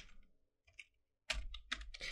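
Keys tapped on a computer keyboard, a few sparse clicks followed by a louder burst of closer strokes.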